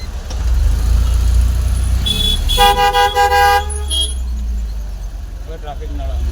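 Busy town road traffic between Mehsana and Himmatnagar in Gujarat, with a steady engine rumble and a loud burst of repeated car horn toots in the middle, followed by a shorter honk as vehicles keep moving close by.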